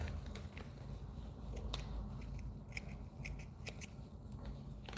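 Scissors snipping polypropylene yarn to make a fly wing at a fly-tying bench, with several crisp, quiet cuts spaced irregularly over a faint steady hum.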